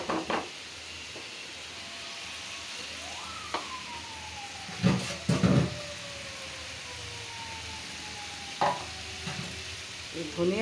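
Spiced brain bhuna masala fries and is stirred in a pan, a steady sizzle with scraping stir strokes, while a rising and falling siren passes in the distance.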